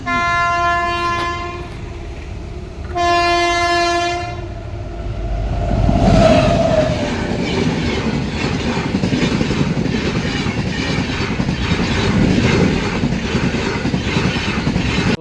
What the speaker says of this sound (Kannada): ಇಲ್ಲಿ ಬೇರೆ ಇವಾಗ ಗೈಸ್ ಟ್ರೈನ್ ಬಂತು ನೋಡಿ